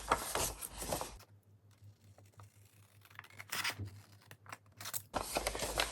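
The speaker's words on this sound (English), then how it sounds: "And then I'm going to cut just until that crease that we made." Scissors cut through two layered sheets of paper up to a folded crease for a junk journal, a short run of close crisp snips and scraping in a quiet room, bracketed by louder handling noise.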